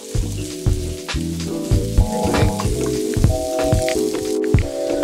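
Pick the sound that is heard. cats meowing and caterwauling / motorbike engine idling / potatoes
potatoes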